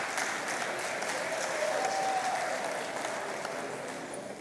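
An audience at a Lagos Business School executive programmes graduation ceremony gives steady, sustained applause that fills the hall at an even level throughout.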